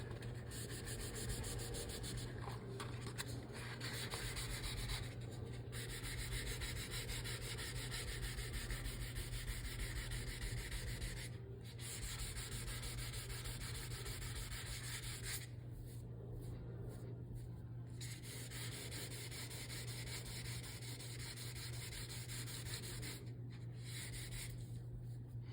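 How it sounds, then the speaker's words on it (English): Hand wet sanding gelcoat on a MasterCraft Prostar 190 boat with 400 grit sandpaper: a continuous close rasping, rubbing scrape with steady back-and-forth strokes, briefly pausing a few times, under a constant low background hum. "Just sand that out."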